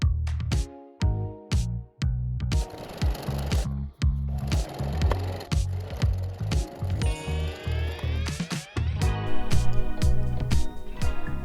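A sewing machine stitches panels of an upcycled vintage kimono into a cardigan, giving close, rhythmic mechanical chattering in repeated bursts with a rising whine near the end.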